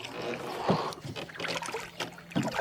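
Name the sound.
paddling a canoe on water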